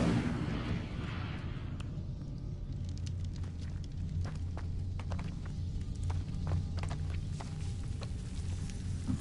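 Incendio fire spell cast in Hogwarts Legacy, a burst of flame followed by steady crackling, popping fire with sharp snaps over a low rumbling roar, moderately loud and continuous.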